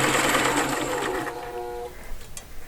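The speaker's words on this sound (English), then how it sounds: "I'm going to back stitch" A sewing machine back stitches a seam on fabric for a dimensional lotus petal, running steadily then slowing and stopping, followed by a few light clicks and handling sounds.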